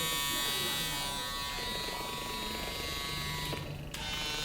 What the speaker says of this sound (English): This is the Recon Series trimmer,